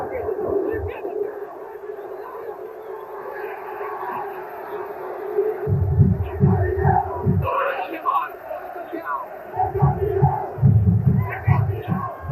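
A huge Maracanã crowd of Botafogo fans roars for a championship-winning goal against Flamengo in the 1989 Carioca final, a dense, sustained stadium din with surging bursts of cheering, while a broadcaster's voice runs over it.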